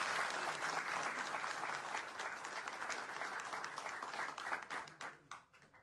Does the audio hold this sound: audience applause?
yes